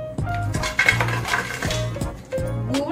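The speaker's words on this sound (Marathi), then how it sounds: "तर आता हा पूर्ण गूळ मी ह्यामध्ये घालते." Chunks of jaggery tumbling into a metal vessel for sesame laddoo, a rapid run of clattering, ringing knocks from several pieces over a few seconds, close and fairly loud.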